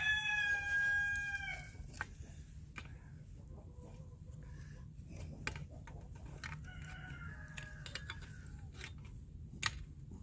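A rooster crowing loudly and close at the start on a Texas farm, followed by a fainter second crow later on, with scattered knocks and clucking in between.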